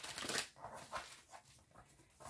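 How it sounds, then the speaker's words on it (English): Tarot cards being shuffled and mixed by hand, a riffling burst near the start followed by softer intermittent card rustles and slides, close and fairly quiet with no talking. "We'll just mix loads of shuffle cards together."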